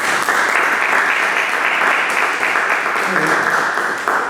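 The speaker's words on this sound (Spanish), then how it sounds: "que tenga un aplauso para Paquita" Audience applause at a literary gathering, honouring a woman named Paquita: loud, sustained crowd clapping with some voices mixed in, easing slightly at the end.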